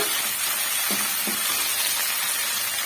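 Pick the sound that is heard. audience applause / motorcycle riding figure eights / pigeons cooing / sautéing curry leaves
sautéing curry leaves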